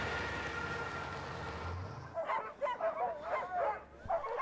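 Sled dogs at a national park kennel in the high Arctic bark and yip in a rapid, excited chorus after a stretch of wind-like noise, fairly close and loud.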